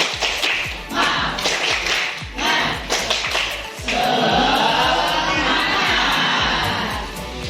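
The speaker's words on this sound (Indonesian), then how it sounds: "Tepuk semangat." A group claps the rhythmic Indonesian 'tepuk semangat' cheer in a classroom-style teacher training session, sharp patterned claps giving way to a sustained burst of clapping and cheering voices.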